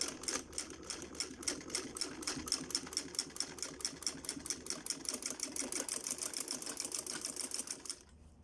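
A sewing machine stitches a zip onto a pocket in a rapid, even run of mechanical clicks that is close and steady for about eight seconds, then stops.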